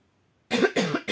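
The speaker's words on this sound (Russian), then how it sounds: "кашель просто неимоверный" A woman with tracheitis or bronchitis gives a harsh, close cough in two or three rough bursts after a moment of silence.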